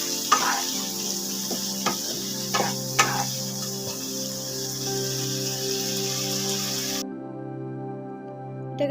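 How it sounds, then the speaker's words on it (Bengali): A spice paste of chilli powder and a little water is stirred and fried in a pan for soyabean muitha, giving a continuous close sizzle with repeated soft scraping strokes. The sizzle drops away abruptly near the end, and no one speaks. "এটাকে ভালো করে আমি কষিয়ে নেব মশলাটাকে, যাতে কাঁচা গন্ধ না বেরোয়।"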